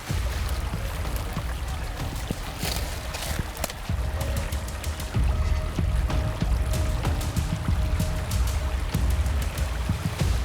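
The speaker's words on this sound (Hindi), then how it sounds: "सामने एक नदी थी जिसकी जलधारा की ध्वनि हमें मंदिर से यहां खींच लाई थी।" A river flows near a temple, a continuous dense rush and splash of water, steady and fairly loud throughout with no voices.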